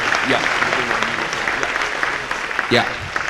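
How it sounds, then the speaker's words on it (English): Applause from a gathered crowd at a high school signing day, a steady dense wash of clapping with voices talking and calling out over it. "So if you would just give another round of applause"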